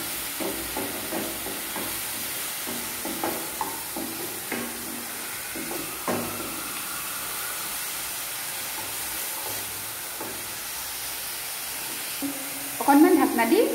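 Onion frying with ginger garlic paste in a pan for a soyabean and egg curry, a steady close sizzle with occasional stirring scrapes, ending in a louder burst of clatter.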